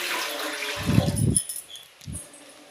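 Water is poured into ground moong dal batter while making chandrakanti pitha, in two short splashing pours: a longer one and then a brief second one.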